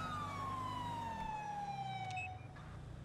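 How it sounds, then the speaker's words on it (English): A police car siren in GTA 5, a single wailing tone sliding steadily downward as it winds down, fairly faint over a low engine rumble, with no talk. "Turn off my siren."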